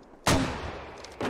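Mortar fire in the military shooter game Squad: a sharp loud boom followed by a rumbling decay, then the start of a second blast about a second later.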